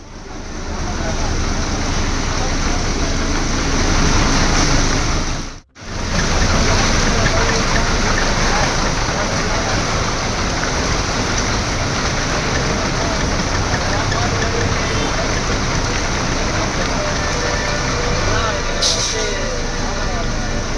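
Vehicles crawling slowly through flooded roads in Perambur, Chennai, during a cyclone, a loud continuous wash of rain, water and traffic rumble with a brief dropout partway through and a voice talking over it.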